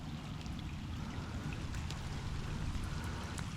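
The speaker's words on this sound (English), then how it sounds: "A little bit of rain coming in." Rain arriving before sunrise on a Florida shrimping outing, a steady broadband patter and wash that holds at an even level throughout, with no voices.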